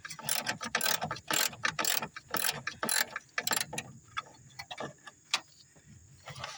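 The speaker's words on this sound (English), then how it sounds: "unscrewing bolts from this bracket on a motor" Rapid bursts of ratchet clicking repeat at close range as bolts are unscrewed from a motor bracket on a car, broken by short pauses and a few metallic taps.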